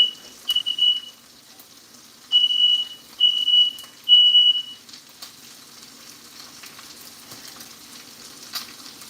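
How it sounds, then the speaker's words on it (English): While steak cooks in a pan, a smoke alarm blares in four piercing beeps of uneven length, the last long, then stops, leaving a faint sizzle and a quiet kitchen hum. "Can't cook anything in this motherfucker without that alarm going off."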